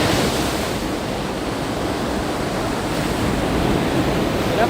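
Ocean surf breaking steadily on Hiratsuka beach in Shonan, a continuous loud wash of waves with wind rumble across the microphone and no pauses.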